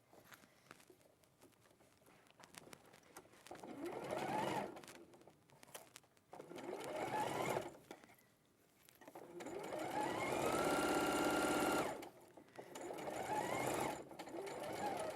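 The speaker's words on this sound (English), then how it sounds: "And then I'm going to sew from here to there first." A sewing machine runs in several bursts, stopping and starting as a seam is sewn about an inch from the edge with a zip folded down, with quiet pauses between the runs of stitching.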